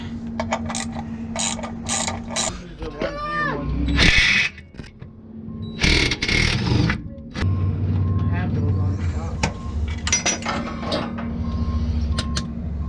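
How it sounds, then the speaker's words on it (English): A ratchet clicks in rapid runs while tightening the oil pan drain plug on a 1976 Dodge Power Wagon, close up, with intermittent voices and clanking shop noise between bursts. "I'm just gonna go ahead and tighten this oil pan plug"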